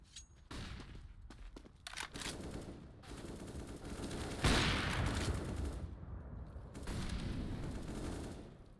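CS:GO gunfire in an esports match: rapid rifle bursts and single shots crackle in quick succession, building to a loud, sustained barrage mid-way before thinning into further scattered volleys.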